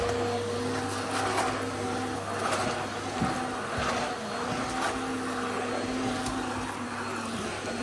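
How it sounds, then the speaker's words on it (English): A household vacuum cleaner runs in a bedroom, a steady, loud whirring drone that holds for several seconds with slight shifts in pitch as it moves, heard alone without talk. "but I'm going to go to vacuum for a couple of minutes."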